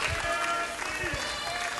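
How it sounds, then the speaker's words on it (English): Applause at a wrestling Battle Royale event for the winner, a steady wash of clapping from a crowd filling the moment, loud and dense with a few voices mixed in. "Nice round of applause for Bambi, who took it all in the Battle Royale"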